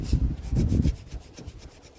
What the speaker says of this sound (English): We're just going to use a Scotch-Brite